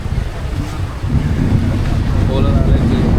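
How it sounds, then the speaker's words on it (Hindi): A ferry cruising across the sea from Pattaya to Coral Island, Thailand, with a loud low engine rumble, rushing water and strong wind buffeting the microphone, all growing louder after the first second. "तो भाई हमारी फेरी चल चुकी है बताया से कोलर आइलैंड के लिए।"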